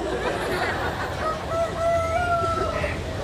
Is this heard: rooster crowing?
yes